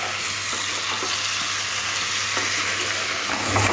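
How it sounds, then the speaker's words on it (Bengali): Small new winter potatoes stir-fried with spices for a spicy alur dom: a loud, continuous close sizzle with faint stirring scrapes throughout. "আরও একবার আলুটা মশলার সাথে কষে নেব।"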